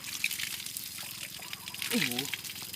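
Water splashes and trickles nearby as people bathe and scrub outdoors in the forest before morning, a soft running wash heard beneath steady talking.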